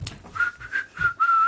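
A man whistles a short, casual tune in a few clear, bright notes, close by and with no talk.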